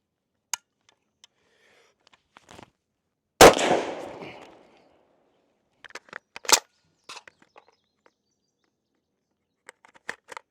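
A Zastava M92 rifle fires one sharp, loud shot that rings out briefly, followed by a quieter report and scattered metallic clicks and handling noises.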